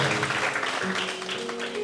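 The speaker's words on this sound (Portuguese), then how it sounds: "Dá uma salva de palmas ao Senhor" A church congregation claps during a pastor's sermon: a brief, busy patter of many hands blending under a voice.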